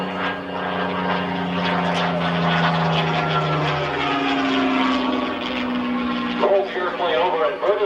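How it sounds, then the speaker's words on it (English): A Supermarine Mark IX Spitfire flies at an air show, its propeller engine droning loudly and steadily with a shifting pitch as it passes. A commentator talks over it throughout. "This is the Supermarine Mark IX Spitfire."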